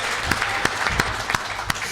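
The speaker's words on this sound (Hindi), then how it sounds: "जय हो, जिंदाबाद, तालियां।" Audience clapping at a Hindi kavi sammelan poetry recital, a steady dense patter with a few sharper individual claps standing out, moderately loud and close, with no talk over it.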